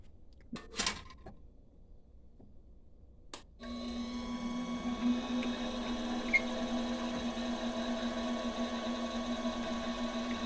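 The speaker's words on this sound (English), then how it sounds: "Hopefully this center drill won't catch." A few sharp knocks, then a steady machine whir with a high tonal whine runs continuously as a number 5 center drill cuts into a metal statuette pen holder.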